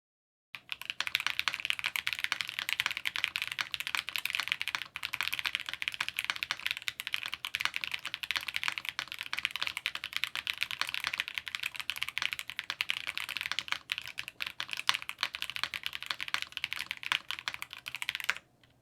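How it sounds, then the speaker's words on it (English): Typing on an Esu67 65% mechanical keyboard used without its wrist rest, a steady fast stream of crisp close key clacks that runs for the whole stretch with no talking. "let me type on it without the wrist rest"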